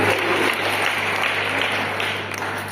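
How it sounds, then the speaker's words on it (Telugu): A roomful of students at a school personality-training session applaud together, a thick wash of clapping that holds strong and then slowly thins toward the end. "విద్యార్థులు చప్పట్లు కొట్టండి"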